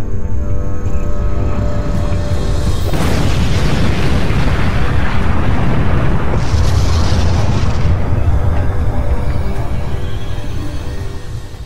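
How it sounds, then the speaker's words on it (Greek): A huge explosion as a meteorite strikes Pantokrator mountain on Corfu: a loud, sustained roaring boom that erupts after a few seconds of rumble and rolls on for several seconds before slowly fading. "Η έκρηξη ήταν τεράστια."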